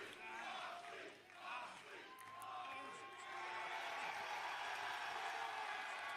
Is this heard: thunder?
no